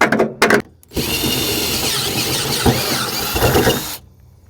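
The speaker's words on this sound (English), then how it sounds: "Sharp drill bits are nice" A power drill with a sharp bit bores steadily through material for about three seconds, a loud continuous whine with a faint squeal, framed by short bursts of tool noise before and after.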